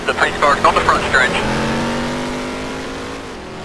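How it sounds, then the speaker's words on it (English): The pace car engine in the NASCAR Racing 2003 racing game, a steady, loud droning hum with a slowly falling pitch that follows a brief spoken line at the start. "The pace car's on the front stretch."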